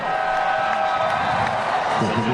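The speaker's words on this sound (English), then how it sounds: "This crowd roaring with every play." A basketball arena crowd at a finals game between Alaska and San Miguel roars in a dense, continuous wash of cheering that stays loud throughout, with no break.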